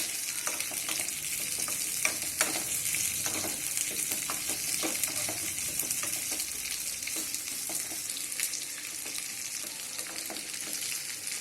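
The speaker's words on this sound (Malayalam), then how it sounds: "ഒരു തണ്ട് കറിവേപ്പില, ഇതെല്ലാം കൂടി വഴറ്റുക" Beef, onions and curry leaves sautéing in a pan for Kerala-style beef fry, a continuous close sizzle and crackle with frequent scraping stirs and no voices.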